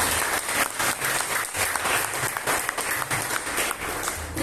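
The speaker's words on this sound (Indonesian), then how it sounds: "Tepuk tangan untuk kita semua." Enthusiastic applause from a podcast studio audience, a dense steady patter of clapping hands lasting several seconds with light crowd murmur.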